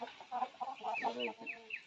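A maila-coloured fighting rooster from Chintalapudi, about 22 inches tall, gives a run of short, close clucking calls with a few brighter rising notes, alone without talk.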